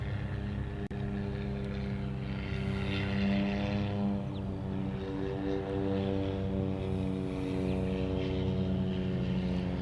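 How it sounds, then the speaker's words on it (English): A Cessna Cargomaster propeller plane operated by Kamaka Air departs Honolulu, its engine a loud, steady droning hum with a strong rising tone that holds throughout, heard alone. "Cessna cargo master."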